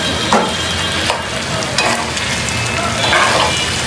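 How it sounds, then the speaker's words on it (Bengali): Beef tripe stir-fried in a wide pan gives a steady sizzle and hiss of frying, with periodic scraping bursts as the pieces are turned and stirred, close and continuous with no talk. "কি সুন্দর করে বটটা ভাজা ভাজা করে নিব প্যানের মধ্যে"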